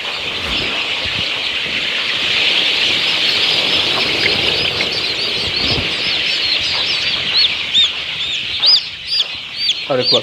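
A flock of native nattu kozhi chickens on a poultry farm clucks and cackles continuously, close and loud, with occasional wing flaps and sharper calls toward the end.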